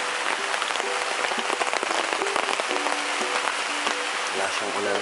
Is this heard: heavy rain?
yes